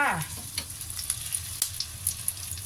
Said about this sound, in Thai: เราจะทอดประมาณนี้ แล้วก็ตักขึ้นนะคะ